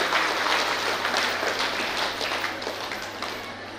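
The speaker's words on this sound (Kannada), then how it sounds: "ಜೋರಾದ ಚಪ್ಪಾಳೆ ಬರಬೇಕು ನಮ್ಮ ನಿರ್ದೇಶಕರು." A crowd gives loud, sustained applause to welcome the director of a Karuna service centre at a tree-planting event, dense clapping that fades slightly over a few seconds.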